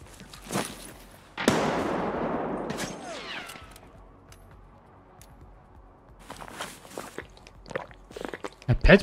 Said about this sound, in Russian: Это что сейчас по мне стреляло?